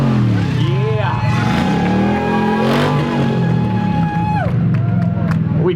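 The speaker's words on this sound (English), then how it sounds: "Only in America would we make a Trans Am like that." A Pontiac Trans Am engine revs loudly at an outdoor freedom convoy rally, its roar rising and falling under a cheering crowd and a voice over a loudspeaker.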